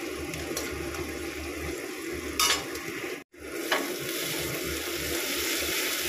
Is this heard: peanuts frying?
yes